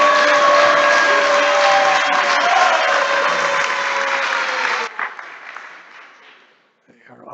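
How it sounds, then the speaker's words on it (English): A crowd at a religious initiation ceremony claps and cheers with a tonal drone or chanting under it, loud for several seconds before cutting off to near silence, with a brief voice near the end. "You can clap louder and say Jai louder."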